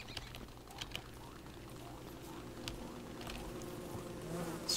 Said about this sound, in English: Some killer bees wandering around still.